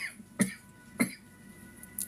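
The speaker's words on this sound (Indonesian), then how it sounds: "Sorry, batuk-batuk." Two short, sharp coughs close to the mic, about half a second apart, followed by a faint third one.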